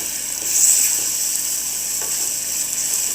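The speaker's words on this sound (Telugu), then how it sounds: "ఇప్పుడు ఒకసారి అలా కలుపుకుందాము." Green chilli gravy (mirchi pulusu) sizzles steadily in a hot pan while being stirred, a bright continuous frying hiss that swells briefly as the spoon moves through it.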